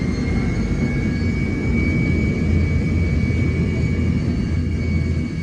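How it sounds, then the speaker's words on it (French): Inside an old Tupolev airliner on the runway, its jet engines roar steadily and loudly, a heavy low rumble with a thin high whine above it and no talk. "Tu vois comment le Tupolev chauffe ses moteurs?"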